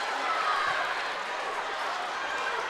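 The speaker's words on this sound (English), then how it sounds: "You can hear the crowd." Nashville fans cheer and shout in a gym during a girls' 4A state tournament basketball game, a dense, steady wash of crowd noise with no break.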